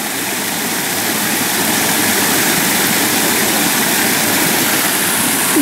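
A waterfall in a turtle exhibit at the San Antonio Zoo pours with a loud, steady, broadband rush that stays constant throughout, with no voices over it.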